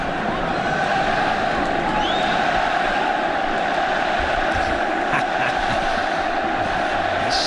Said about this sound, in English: Still cheering for somebody called Messi.